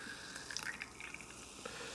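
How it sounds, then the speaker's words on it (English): Chilled Pepsi Zero Sugar Mango soda is poured into a glass, producing a continuous fizzy, splashing trickle at close range with no talking. "Should pour that without spilling it."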